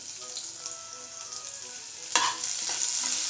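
Finely chopped onion frying in oil with cumin seeds in a kadai, a steady close sizzle with a sharper stirring scrape partway through and no talking.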